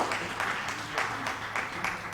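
A congregation at a Syro-Malabar retreat in Philadelphia claps in thanks: a steady, even run of many hands applauding together for the whole stretch, with no voices over it.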